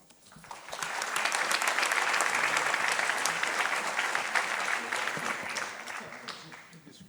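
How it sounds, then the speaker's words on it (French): Conference audience in a hall breaks into sustained applause that swells within a second, holds steady for several seconds of dense clapping, then gradually fades away. "je crois qu'on peut également les applaudir"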